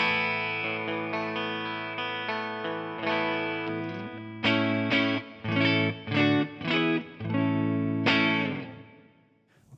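Stratocaster electric guitar through a clean Bogner Shiva preset on an Axe-Fx II rings out in sustained chords and then choppy rhythmic stabs, bright and loud with no voices, the last chord fading away.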